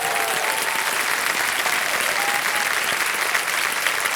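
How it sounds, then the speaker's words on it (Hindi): Studio audience at a televised quiz show applauding, a dense, steady wash of clapping that fills the whole stretch without pause. "तालियां एक बार फिर बज जाए उनको"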